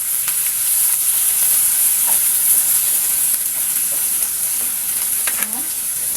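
Shrimp with the shells left on sizzling steadily in butter in a pan, a continuous close frying hiss with faint stirring clinks, a brief voice near the end.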